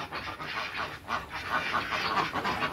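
A flock of Pekin (Beijing) ducks on a farm, quacking and honking in overlapping raucous calls. They sound close and continuous, with a faint voice underneath.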